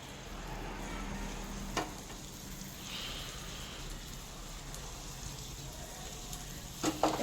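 Spicy street-style potatoes frying in hot white oil on a tawa, giving a steady dense sizzle throughout with a few sharper crackles and pops, close and continuous with no talk.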